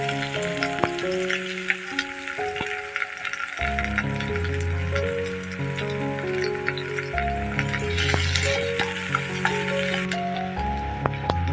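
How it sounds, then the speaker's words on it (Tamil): Chopped onion fries in hot oil with mustard seeds that have already spluttered, the base for egg bhurji, giving a steady sizzle under prominent background music that runs throughout. "இப்போ கடுகு நல்லா பொரிஞ்ச உடனே நம்ம ஆனியன் சேர்த்துக்கலாம்."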